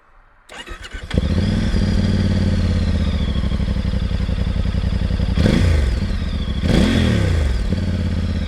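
A Voge DS800X Rally motorcycle engine with stock exhaust cranks and fires up in neutral, then settles into a steady, loud idle with a couple of brief revs, close at hand.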